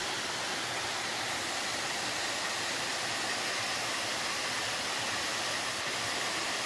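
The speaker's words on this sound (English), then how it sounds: "we've got into the base of Zoe Falls and it's pretty special" Steady broadband roar of a waterfall at the base of Zoe Falls on the tropical Queensland coast, close and continuous with no talk.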